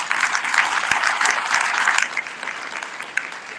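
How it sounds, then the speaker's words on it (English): A convention audience applauds steadily, dense clapping holding at an even level for several seconds before thinning slightly toward the end. "So give yourselves a round of applause"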